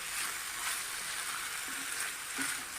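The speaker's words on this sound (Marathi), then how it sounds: "हे साधारण अर्ध्या कच्च्या भाज्या आपल्याला परतून घ्यायच्या" Mixed vegetables being sautéed in a pan for a quick home-style dry vegetable dish, a steady soft sizzle and crackle with faint stirring scrapes, continuous and even throughout with no talking.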